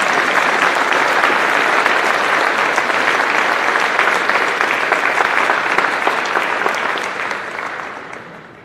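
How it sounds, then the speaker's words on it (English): A high school pops concert audience breaks into sustained, dense applause, loud and even for several seconds before tapering off near the end. "Would you give them an applause, please?"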